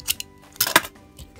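Scissors cut open a plastic blind-bag toy package up close. A few light clicks are followed by a short burst of crinkly snipping and rustling, with no voices.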